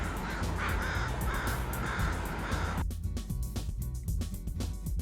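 Crows caw loudly and repeatedly, with harsh calls layered over a dense, steady wash of background noise and no voices.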